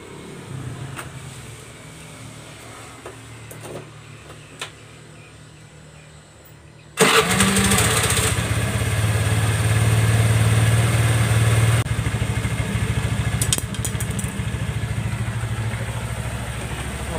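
A Honda motorcycle engine, just repaired with a new swing arm bush and its idle speed fixed, cranks over after quiet shuffling, then fires and settles into a loud, steady idle close by.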